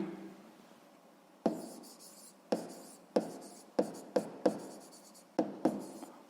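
Handwriting on paper during a sixth-grade maths lesson: quiet, irregular pen strokes and sharp taps, about nine of them, close by and faint, with no speech.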